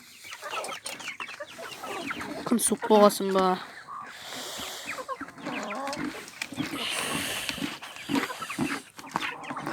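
Kazakh hens cluck in a farmyard coop in winter and a rooster is part of the flock, scattered clucks and calls mixed with rustling and shuffling, while a person talks over them.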